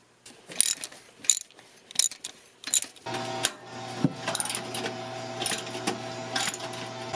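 Ratchet wrench clicking in quick bursts while backing out exhaust manifold studs on a 1.6L Mazda MX5 Miata, close and crisp, followed by a steadier mechanical whirr with lighter clicks.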